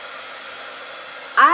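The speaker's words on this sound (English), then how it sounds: "I'm gonna hit this with the heat gun." A heat gun switches on near the end, blowing a steady, loud rush of air over decoupage paper glued onto a wood box, after a quiet room.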